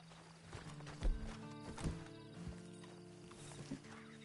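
Horse hooves clip-clop at an unhurried walk in Red Dead Redemption 2, a few distinct hoof strikes over a quiet ambient bed with tonal background sound, near and fairly soft.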